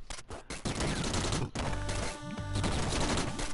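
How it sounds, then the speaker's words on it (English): Gun boots in the Downwell video game fire as a dense, rapid barrage of harsh, gunfire-like blasts. The volley runs nearly continuously and loud, with a couple of brief gaps. "So now I can just spam the gun boots with ease"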